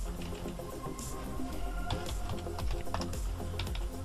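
Rapid typing on a computer keyboard during a gaming stream, a steady run of close, crisp key clicks over a constant background hum.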